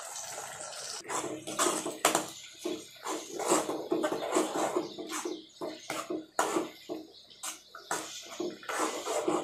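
Water splashes and trickles into a pan of paneer butter masala in uneven bursts, with soft clinks and scraping, fairly close and moderately quiet.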